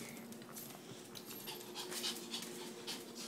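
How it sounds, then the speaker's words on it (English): A dog whimpers and pants close by, giving soft high whines in short repeated bursts at low volume, with no clear loud barks. "You've been barking."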